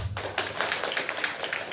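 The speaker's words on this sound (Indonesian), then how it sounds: "Tepuk tangan dong." Audience at a student theatre festival in Kudus clapping after a stage performance, a moderate, fairly even patter of many hands in a hall, with no talk over it.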